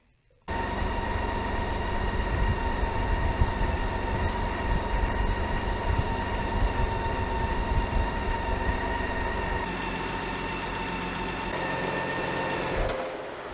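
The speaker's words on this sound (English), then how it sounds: "I'm gonna go ahead and start the bike up, let it run, build up some pressure, and see if there's any leaks." A BMW K1600 GTL six-cylinder motorcycle engine starts up and settles into a steady, smooth idle close by, running evenly without talk before cutting off near the end.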